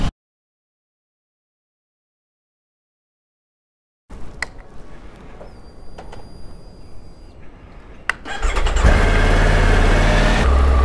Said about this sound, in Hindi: सो बाइक अपने हो गई है कोल्ड स्टार्ट